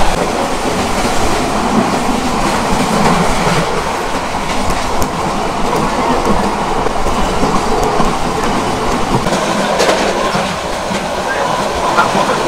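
The Mohanagar Provati Express passenger train, running non-stop from Dhaka to Chittagong, rolls steadily along the tracks with a constant rumble and clatter, loud and close, with no pauses throughout.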